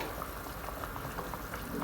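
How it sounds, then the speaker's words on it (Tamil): A pot of water for chicken biryani bubbles at a rolling boil, a constant close hiss with small popping bursts and no voice over it. "இப்போ நம்ம தண்ணி நல்லா கொச்சிடுச்சு."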